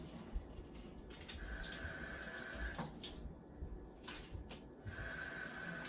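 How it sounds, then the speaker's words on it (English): Food for a fried vegan chicken salad sandwich is rinsed under a running kitchen tap, giving a steady, close hiss of water for a few seconds. "And then I'm just gonna rinse these. Just give them a little rinse, not too much."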